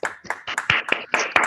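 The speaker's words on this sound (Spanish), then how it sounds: "Aplausos." Several people clap at the end of an online parental-responsibility session, a loose, uneven patter of close handclaps with no voices.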